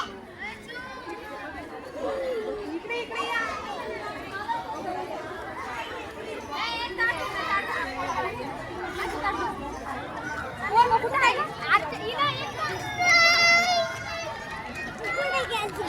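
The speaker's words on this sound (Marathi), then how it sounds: "प्रचंड गर्दी आहे." Dense, steady chatter from a large crowd of devotees, thousands of them women, queued at Shri Ram temple in Ayodhya Nagar for Makar Sankranti; overlapping voices and children's cries mingle, with louder bursts of talk near the end.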